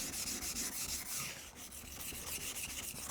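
A Fujiwara kitchen knife is sharpened on a whetstone with light pressure at the middle of the bevel, giving a steady, close, continuous gritty scraping and rubbing with no talk.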